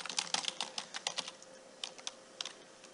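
Fingers type on a computer keyboard while editing website text, a quick irregular run of close, crisp key clicks in short bursts separated by brief pauses.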